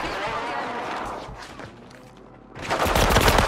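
Gunfire in the video game Call of Duty: a dense rattle of shots at the start, a brief lull, then a loud burst of rapid automatic fire at the end, with a voice faintly present.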